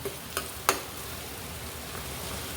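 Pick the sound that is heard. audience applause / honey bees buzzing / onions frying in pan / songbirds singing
onions frying in pan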